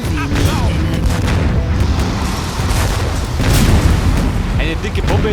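A seismic bomb going off in the War Front: Turning Point video game, heavy booms and rumbling blasts with battle noise throughout, and a voice talking over part of it.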